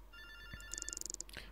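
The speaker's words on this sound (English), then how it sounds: "Oh, who's calling me at this time?" A telephone rings inside a horror video game, a quick run of bright electronic trills in two bursts, loud and close over a dark ambient drone with no talk.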